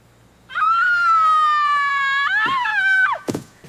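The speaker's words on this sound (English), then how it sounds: "Did you know deer can scream?" A deer screams in a long, loud, piercing tonal wail lasting about two and a half seconds, wavering and breaking near the end, followed by brief rustling. It is close to the recorder in a rural setting.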